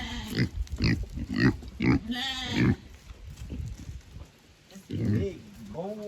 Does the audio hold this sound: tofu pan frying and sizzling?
no